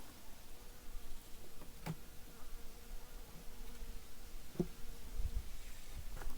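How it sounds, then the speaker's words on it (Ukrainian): Honeybees buzzing steadily in a close, continuous drone as a handful is moved by hand while working an autumn hive, with a few faint knocks. "Жменька бджіл. Я їх пересаджу."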